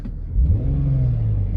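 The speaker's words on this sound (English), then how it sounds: "Car seems to rev up" An LS-swapped BMW E39 Touring engine idles, then revs up sharply and holds a steady, loud, close drone at raised speed, with no voices.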